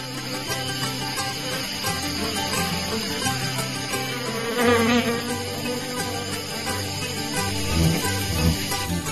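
Honeybees buzzing at an apiary during autumn breeding, a dense continuous drone of many wings close by, swelling and fading as individual bees pass near, no talking.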